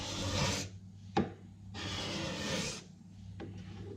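A hand scraper works an oak window sill in two long, rasping strokes with a quieter pause and a sharp tick between them, close and alone.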